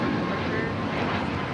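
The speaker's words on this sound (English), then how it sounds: "This is Alaska Airlines 1430 taking off to Los Cabos on the MAX 9." Alaska Airlines Boeing 737 MAX 9 taking off at LAX, a brief steady jet engine roar from a distance, with muffled voices mixed in.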